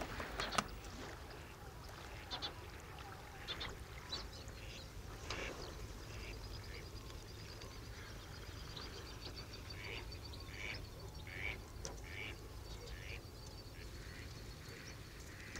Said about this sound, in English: There are many common species too, such as mallards, regular visitors to Spanish lagoons.